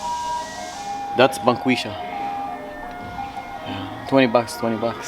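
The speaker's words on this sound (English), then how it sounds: "what you guys are hearing is not actually ice cream truck. This is actually Snap-on truck, or the other tool guy truck" A Snap-on tool truck plays a tinkling ice-cream-truck style jingle, a few bright repeated melodic phrases over street noise, with people talking close by throughout.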